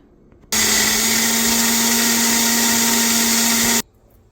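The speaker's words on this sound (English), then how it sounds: "I'll just grind it and bring." A mixer grinder blends ingredients for hariyali paneer veg kabobs: one loud, continuous whirring motor run of about three seconds, starting and stopping abruptly against near silence.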